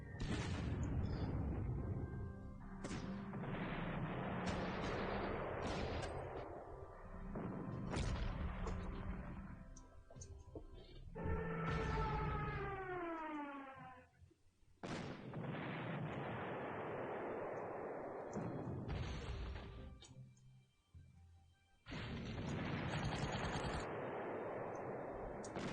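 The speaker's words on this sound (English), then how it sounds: "So much artillery." Artillery fire in the Panzer Corps strategy game, with repeated loud booming blasts and rumbling explosions rolling one after another, some with a whistling sweep, alone without speech.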